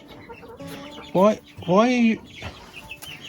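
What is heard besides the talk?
chicken clucking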